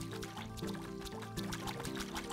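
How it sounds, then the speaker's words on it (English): Farmland is watered in the video game Staxel, a soft liquid pouring and trickling sound repeating in short rhythmic bursts, quiet and mixed with light background music. "I'm just going to water all of the land."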